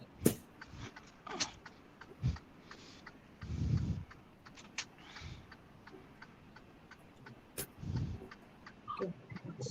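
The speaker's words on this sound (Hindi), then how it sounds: "वो एक्चुअली सिग्नल इंडिकेटर का ही आवाज है।" A car turn signal indicator ticks in the background, faint, irregular clicks spread across several seconds alongside a few duller knocks and thumps.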